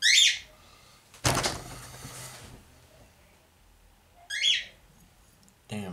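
Bird calls sound outdoors: two short bright chirping bursts, one at the start and one near the end, with a sharp knock or thud between them and quiet background in the gaps.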